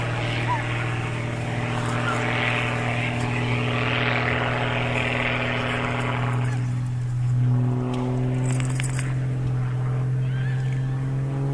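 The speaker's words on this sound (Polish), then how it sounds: "Patrzcie na ten samolot, co on robi." A propeller airplane flies aerobatics, a steady engine drone with a strong low hum rising and falling in pitch, while people talk excitedly over it.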